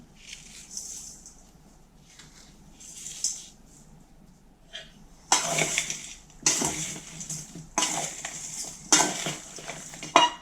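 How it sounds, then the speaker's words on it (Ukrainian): Utensils scrape and clatter against a bowl while stirring sliced cucumbers and onions with salt, in bursts, louder and more continuous in the second half, with quieter handling sounds before. "Все це гарно потрібно розмішати."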